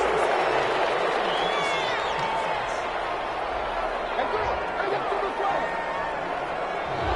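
A stadium crowd in a football video game reacts to a penalty flag with a continuous, loud, roaring wash of crowd noise, while commentary voices are heard over it.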